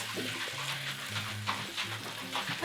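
Seasoned ground meat browning in a pan gives a quiet, steady sizzle with occasional scrapes of stirring and breaking up, close and without voices.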